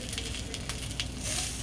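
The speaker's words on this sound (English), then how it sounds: "browning my garlic. I have about 6 cloves of garlic" About six cloves of garlic browning in olive oil in a pan: a steady, close sizzle with crackly spattering pops, heard alone with no voices.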